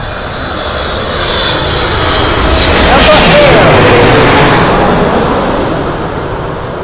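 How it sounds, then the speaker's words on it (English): A large jumbo airliner, a Dreamliner or 777 on arrival at LAX, roars overhead, the engine rumble swelling to a loud peak mid-clip then fading, with a person speaking faintly. "Looks like another jumbo jet coming in here. It's either a Dreamliner or 777."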